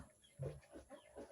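Soft, faint clucking from chickens, a few short low calls close together against a hushed background.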